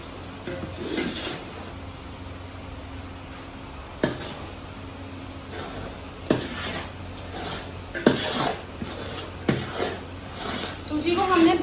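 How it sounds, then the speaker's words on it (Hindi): Semolina roasting in hot ghee in a pan, with scraping and knocking of a spoon against the pan at irregular intervals and a soft frying hiss underneath, while someone talks throughout. "सूजी को सिर्फ हमने भूनना है।"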